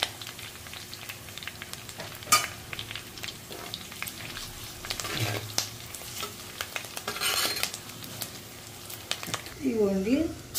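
Onion and sesame seeds sizzle and crackle in a frying pan for chicken curry, with intermittent stirring scrapes and a voice talking over the steady frying.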